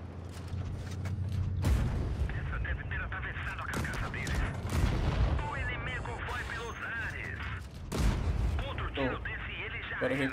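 Tank guns firing in a tank battle video game, with sharp booming shots and rattling impacts scattered throughout, heard under someone talking steadily.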